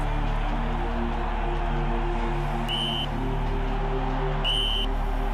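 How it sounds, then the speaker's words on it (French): A referee's whistle ends a football match, two short shrill blasts rising over a steady, loud stadium crowd roar. "Lorsque M. Codesal Mendes siffle la fin de la partie"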